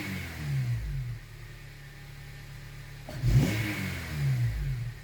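A car engine idles close by, then surges in one quick rev as the throttle is pressed and falls back to a steady idle.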